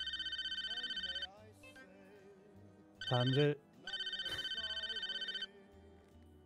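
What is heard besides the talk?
phone ringing in a video game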